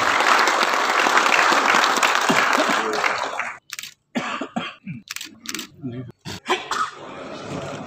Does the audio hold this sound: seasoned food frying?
no